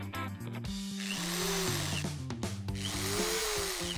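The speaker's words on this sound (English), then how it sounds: "Let's drill." A power drill bores into wood nearby, its motor whining steadily and rising in pitch twice as it bites into the material.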